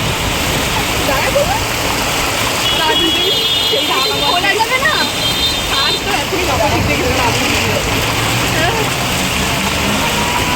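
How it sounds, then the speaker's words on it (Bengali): Heavy rain pours down in a dense, steady roar that fills the whole stretch while people talk over it. "মারাত্মক বৃষ্টি"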